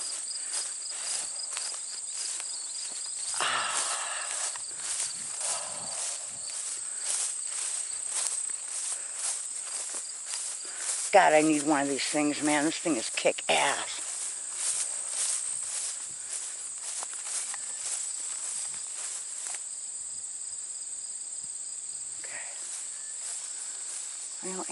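Crickets chirp in a steady, high continuous trill throughout a quiet outdoor setting on a farm, with footsteps, brief rustling and someone talking close by over the insect chorus.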